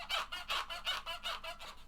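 A microphonic Telecaster electric guitar squeaks in about seven evenly spaced, honk-like pulses, fairly faint and heard alone.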